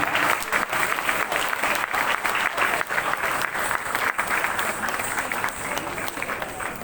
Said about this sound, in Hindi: जोरदार तालियां बजाते रहिए आप जब तक ये अपने सीट पर ना पहुंच जाए